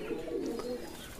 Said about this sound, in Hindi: ये देखें जिस तरह से माशाल्लाह से ये खा रहे हैं दाना सारे कबूतर।